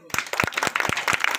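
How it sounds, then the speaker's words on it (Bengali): A crowd gathered around a street hawker claps together on request, a burst of distinct, sharp hand claps in an uneven rhythm, close and lively. "ভাত খাওয়ার পর সবাই একটা তালি হোক"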